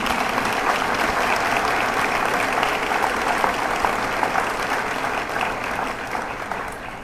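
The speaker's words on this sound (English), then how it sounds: "Please give them a round of applause" An outdoor crowd at a women veterans monument unveiling in Veterans' Park on Okaloosa Island applauds in a steady, dense round of clapping that holds at an even level and eases slightly toward the end.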